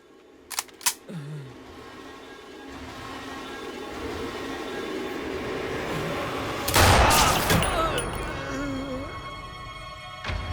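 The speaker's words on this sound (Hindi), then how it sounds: "कुछ गन शॉट्स की आवाजें आई" Gunshots ring out in a dramatic film scene: a couple of sharp cracks early on, then a louder, harsher burst of gunfire later, over a tense background with faint voices.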